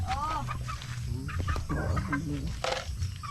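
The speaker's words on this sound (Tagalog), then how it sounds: "Daghamong manok" Chickens cluck and chatter close by in a farmyard, with a low background rumble and overlapping bird calls throughout.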